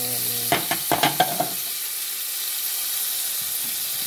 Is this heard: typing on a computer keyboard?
no